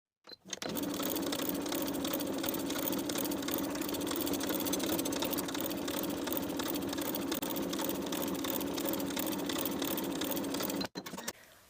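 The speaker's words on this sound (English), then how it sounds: "We're going to stay stitch around the neckline with a 1/2 inch seam allowance and a regular straight stitch, from dot to dot." A sewing machine runs one continuous straight stitch for about ten seconds, stay stitching around a coat neckline at a 1/2 inch seam allowance, its rapid mechanical whir close and steady before it stops.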